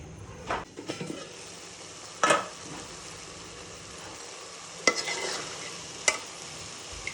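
Potatoes sautéing in a pan for a shol fish curry with bean seeds, tomato and onion greens: a steady sizzle under repeated scraping stirs, with a few sharper clatters of the spoon against the pan.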